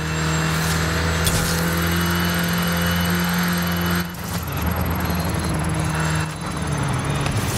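Cabin noise from a new Renault RS16 with front-wheel drive under way: a steady engine drone and a dense road and wind roar that dips briefly and then returns, with no talking.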